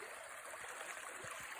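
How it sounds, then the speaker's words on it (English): A small creek flows with a faint, steady rush and trickle, soft and continuous with no voices. "A beautiful little creek"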